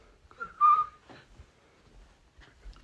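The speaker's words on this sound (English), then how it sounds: "Jiraiya proceeded to whistle." A short melodic whistle by a person, one bright sustained tone swelling loud for about half a second, followed by faint scattered rustles and soft noises.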